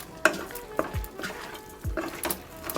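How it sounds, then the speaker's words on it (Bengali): Potatoes and capsicum stirred in a pan, with scattered scraping and clinking of a spatula against metal over a faint sizzle, close and moderately quiet. "এবার একটু ভালো করে কষে নেবেন।"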